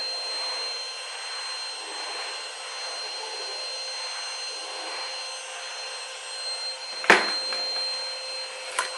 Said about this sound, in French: Vous entendez l'aspirateur,